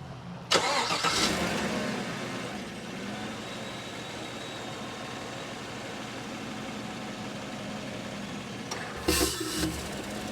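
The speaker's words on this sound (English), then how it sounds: "so I'm going to start the engine now." A GMC Sierra or Chevrolet Silverado truck engine cranks and catches, then settles into a steady, loud idle that runs for several seconds before a second burst of noise near the end, during a transmission fluid flush.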